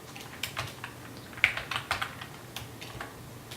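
Keystrokes on a computer keyboard while code for a simple calculator program is typed, coming as scattered, light clicks in short irregular runs with brief pauses, close by and fairly quiet.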